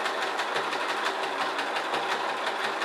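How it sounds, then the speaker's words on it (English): A sewing machine running steadily while sewing a straight stitch on a flat felled seam through a thrifted blanket, a continuous close, even whirring hum with rapid regular needle pulses throughout. "sewing a straight stitch, making the flat filled seam and catching the flowers at the same time."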